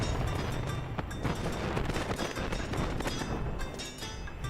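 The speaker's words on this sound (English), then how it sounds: "We'll say the fireworks are so loud." Fireworks in Final Fantasy XI crackle and pop in dense, irregular bursts over a continuous roaring wash, loud and sustained throughout.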